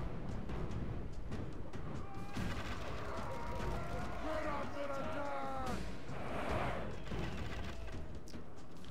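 Siege engines hurl stones during a city assault in Rome: Total War, with dense booming impacts and crashes layered over a continuous battle din, while a voice talks over the action.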